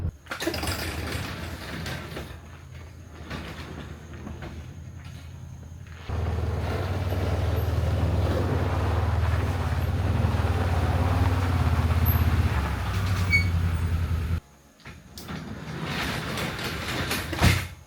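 Vehicle engine rumbling while driving up to a garbage dump, a steady low drone that grows louder midway, cuts out briefly, then resumes.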